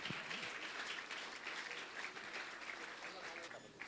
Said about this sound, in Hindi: तालियां इनके लिए जोरों से प्लीज।